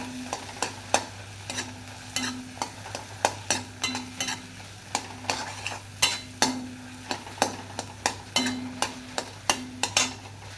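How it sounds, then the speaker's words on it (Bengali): Potato filling for samosas stirred in a pan, a spoon scraping and knocking in a steady rhythm of sharp, close taps over a constant low hum, with no talking. "ভালো করে নেড়ে চেড়ে নিতে হবে"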